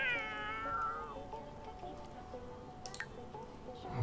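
A cat meows repeatedly in The Sims 4 life-simulation game, a drawn-out tonal meow followed by shorter ones, with faint game ambience and small clicks in the background.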